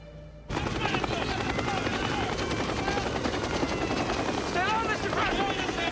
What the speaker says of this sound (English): We're gonna run to the chopper.